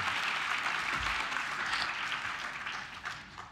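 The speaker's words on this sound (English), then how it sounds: "Another big round of applause for Thomas Saraceno." A crowd applauds with dense, steady clapping that holds for a few seconds and then begins to taper off slightly.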